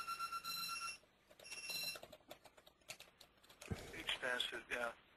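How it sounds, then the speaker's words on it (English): An alarm beeps in bursts of high, repetitive electronic tones early on, then gives way to keyboard clatter and a person talking over the top. "Let me go ahead and turn off that alarm before it gets too annoying."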